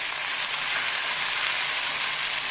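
Potatoes dropped into hot mustard oil for a chicken and tomato curry give a steady, dense frying sizzle that holds at even loudness throughout, close and uninterrupted, with no talk.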